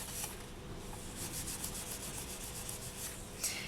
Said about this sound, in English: just take it and gently give it a sand